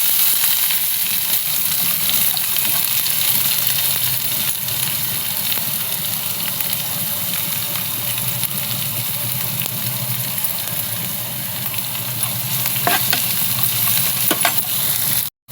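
Onion goes into hot oil already holding cumin seeds and roasting garlic for an ivy gourd stir-fry, making a loud, continuous, close sizzle that holds evenly throughout and ends abruptly.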